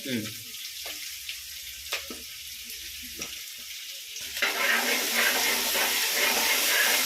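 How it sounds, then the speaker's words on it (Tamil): Onions sautéing on one side of a pan while fish fries on the other, a soft crackle with intermittent pops that swells into a loud, steady sizzle partway through. "இந்த பக்கம் வெங்காயம் வதங்குது, இந்த பக்கம் மீன் செய்கிறோம், வறுக்கிறோம்."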